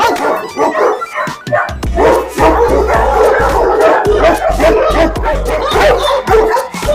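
Many large dogs, including African Mastiffs, bark at a two-hectare farm kennel: a dense, loud chorus of deep barks, yips and whimpers overlapping continuously, close by.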